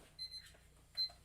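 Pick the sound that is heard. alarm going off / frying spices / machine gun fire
alarm going off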